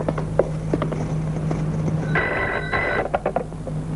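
A telephone rings in a household setting, a bright electronic ring sounding in two bursts over a steady background hum.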